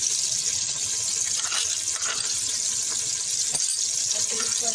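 Onions dropped into hot oil with cumin seeds fry with a dense, steady sizzle and crackle that fills the whole stretch, loud and close, with a faint voice underneath.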